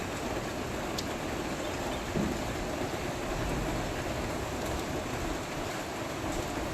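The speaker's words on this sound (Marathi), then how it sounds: "वादळी पाऊस म्हणतात याला" A stormy monsoon downpour hisses in a steady, dense wash of rain without pause, continuous and fairly loud, with no clear thunderclap standing out.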